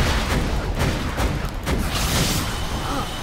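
Rocket launcher fire in the video game Borderlands 2, dense bursts of booming blasts and explosions that keep going without a break across the whole stretch, loud and close.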